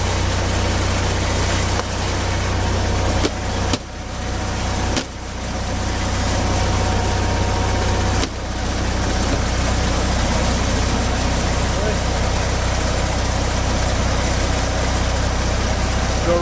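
A vintage RV engine with an old carburetor idles after a winter start, a loud steady low rumble that runs unbroken for the whole stretch, with a few brief dips in level.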